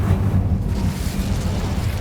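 A fire spell cast in Hogwarts Legacy, a continuous loud whooshing roar of flame that runs steadily across the whole moment, dense low rumble with no voices over it.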